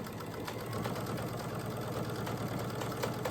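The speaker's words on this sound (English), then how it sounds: "I'm not pushing it through the sewing machine." Sewing machine stitching binding onto a quilt, a steady rapid mechanical whir and chatter, running continuously and close without a voice.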